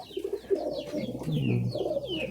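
Local desi pigeons coo nearby in a flock of mostly males, with overlapping low throaty coos in a continuous rolling rhythm and a few higher chirps above.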